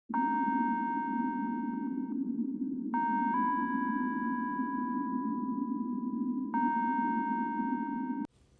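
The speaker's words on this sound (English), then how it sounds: "When Monster Gummy enters the room, he will play a soundtrack that sounds like this" A simple electronic tune of sustained beeping tones, played when Monster Gummy enters the room in the game FNaC 3, sounds over a steady low hum, shifting pitch a few times before cutting off abruptly.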